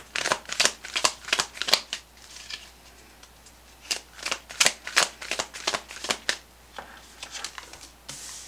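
Tarot cards are shuffled in repeated quick riffling bursts, crisp and close, with brief pauses between rounds of shuffling.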